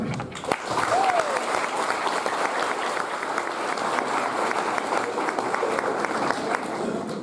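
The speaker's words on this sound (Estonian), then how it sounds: "Palume aplausi teel tervitada." Loud, sustained audience applause welcoming jury members at a show, dense continuous clapping after a sharp opening thump, with a brief whistle rising above the crowd.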